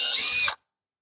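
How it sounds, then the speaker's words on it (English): A power drill bores a pilot hole into a garage door jamb in one short, loud, close burst of whirring that stops abruptly, followed by silence. "We'll drill a pilot hole"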